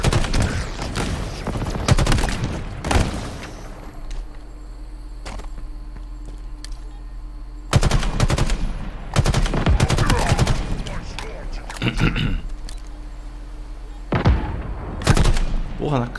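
Weapon fire in the shooter game Halo Infinite, repeated bursts of rapid gunshots in clusters separated by brief lulls, loud and close, with game noise in between.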